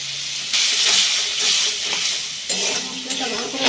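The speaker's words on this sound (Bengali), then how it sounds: "মশলাটা ভালো করে কষিয়ে নেব" Close, loud sizzling of a mixer-ground spice paste with tomato frying in a pan, steady hiss punctuated by scraping stirs against the pan.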